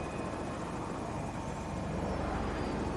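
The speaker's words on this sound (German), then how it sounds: "Guck mal, das ist ein Jet." A jet aircraft in the video game Battlefield 2042 roars past overhead as a steady, broadband engine rush that fills the whole moment at moderate loudness, with no talking.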